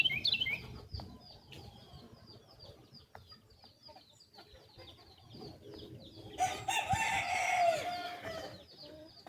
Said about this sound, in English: There's a bunch of birds around here.